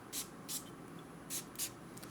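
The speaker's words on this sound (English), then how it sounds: "So I'm actually giving myself a spray on the hand" Quiet hissing bursts from a perfume atomizer sprayed onto a hand, four short puffs at uneven intervals over a low steady background.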